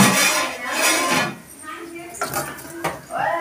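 Metal cooking pots set down on a stand beside a large outdoor cooking fire, giving clattering clinks and knocks of metal on metal while a person talks over them.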